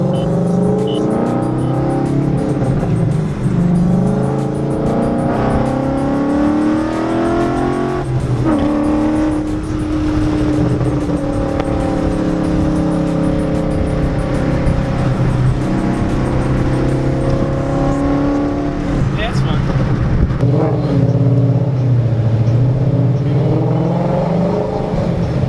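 A Ford Mustang 5.0 heard from inside while driving, its engine a loud, steady drone that rises and falls through gear changes for the whole stretch, with no talk.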